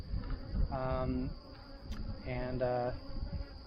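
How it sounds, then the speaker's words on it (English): Honey bees around beehives, a steady close buzzing hum that swells and fades as insects pass near, with a faint voice-like tonal layer underneath. "These are bee weaver bees."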